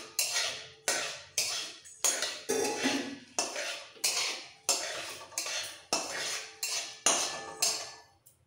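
Whole spices (cardamom, cloves and a piece of cinnamon) fry in a pan, heard as about twelve regular bursts of close, loud crackling and metallic scraping, each cut off by a short gap, with no voices.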